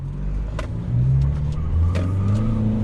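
An Isuzu D-Max 1.9 Hi-Lander four-door pickup, driven at night, accelerates at full throttle, its engine droning loudly and rising in pitch from inside the cab, with a few faint clicks and no talk.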